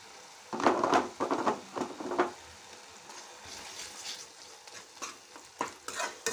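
Ginger garlic paste frying in oil for a prawn gongura curry, with a burst of crackling and stirring scrapes up close early on, then a quieter, intermittent sizzle with occasional clinks.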